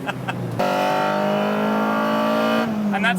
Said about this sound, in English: What an awesome little car.